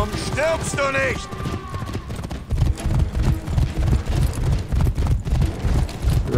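Galloping horse hooves in the video game For Honor pound in a steady rapid rhythm, loud and close, with game effects and a voice early on and German talk over the action.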